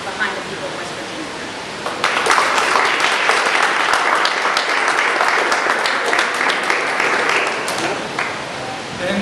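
An audience at a health care reform event applauds U.S. Senator Rockefeller of West Virginia, with dense, sustained clapping that swells after a quieter start and holds steady throughout.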